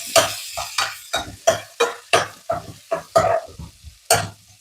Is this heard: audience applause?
no